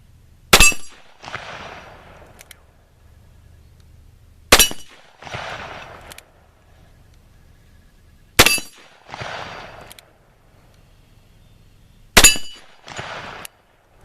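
Four loud, sharp .357 Magnum gunshots fire 140-grain Hornady XTP reloads outdoors, spaced about four seconds apart, each crack followed by a brief echoing tail and faint shuffling between shots.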